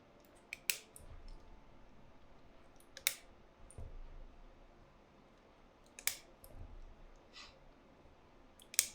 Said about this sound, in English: So I'm gonna stuff all the rest of these switches in